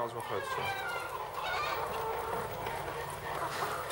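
Chickens cluck steadily in a poultry house where an egg-collecting robot moves among the flock, a dense chorus of overlapping clucks and calls with some faint background voices.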